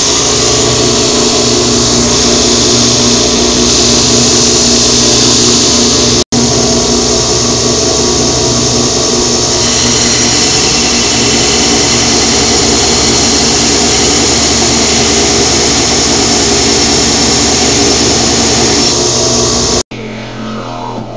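A belt grinder grinding steel runs loud and steady for the whole stretch, a harsh continuous whir and grinding roar that briefly cuts out near the end.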